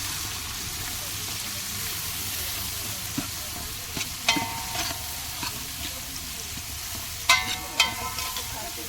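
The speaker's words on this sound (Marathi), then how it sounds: "कांदा चांगला परतून घेऊया" Onion sautéing in a pan, a low continuous sizzle with occasional sharp clinks and scrapes of a spoon against the pan.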